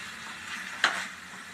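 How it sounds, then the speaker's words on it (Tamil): Okra is gently turned in a pan for a Karaikudi-style mandi, a soft steady sizzle with a single faint utensil clink partway through. "வெண்டைக்காவை சேர்த்துட்டு கிண்டி விடுங்க லைட்டாக வெண்டைக்காய் உடையாமல் பொறுமையாகவே கிண்டி விடுங்க"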